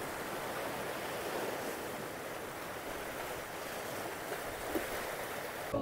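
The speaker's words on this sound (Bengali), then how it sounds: "যেহেতু জোয়ার চলছে সেই কারণে জল এখানে ঢেউ দিচ্ছে।" Sea waves at high tide wash continuously on Mousuni Island, a dense, even roar of surf mixed with wind buffeting the microphone, with no voices.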